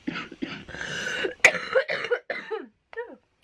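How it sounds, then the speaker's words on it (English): A person coughs repeatedly and close, a run of rough hacking coughs at the start and then several shorter, sharper coughs trailing off, with no talking. "Still got a cough."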